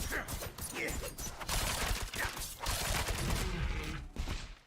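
In Diablo 4, rapid gunfire shoots a bear in half. Dense bursts of shots and impacts crackle almost continuously, fairly loud, with brief dips between volleys.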